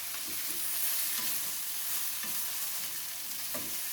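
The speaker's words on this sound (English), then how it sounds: "Continue cooking and stirring constantly for another 2 minutes or until the mushrooms are tender." Mushrooms stir-frying with leftover Christmas turkey and vegetables, a dense continuous sizzle with soft periodic scrapes of constant stirring, close and steady, no voices.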